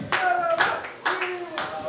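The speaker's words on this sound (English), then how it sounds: "just fucking applaud and shut the fuck up" Crowd applause at a live comedy-style stage show, with several bursts of clapping in quick succession that rise and fade, mixed with some voices underneath.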